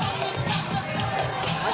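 Loud crowd at an election victory party, a dense wash of cheering and shouting voices filling the space steadily.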